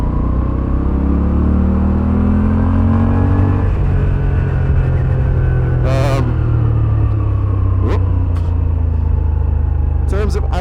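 A Moto Guzzi V7 850 motorcycle on a test ride hums loudly at close range, its engine pitch rising and falling as it accelerates and shifts, while a rider talks over it.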